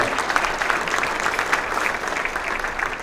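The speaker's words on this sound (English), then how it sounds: "So you can give them a big round of applause." Audience applause at a mayor's State of the City address, a steady patter of many hands clapping, moderately loud and continuous throughout.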